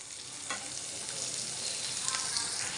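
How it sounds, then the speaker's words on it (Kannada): Medicinal leafy greens sizzle steadily in hot oil in a pan while being dry-fried for chutney, a dense, constant close-up frying hiss with a few faint stirring scrapes. "ನಾವು ಸೇಮ್ ಹೇಗೆ ಬೆಂಡೆಕಾಯಿ ಹುರ್ಕೊತೀವೋ ಆ ಥರ ಹುರ್ಕೊಳ್ಳೋದಷ್ಟೇ ಇದು"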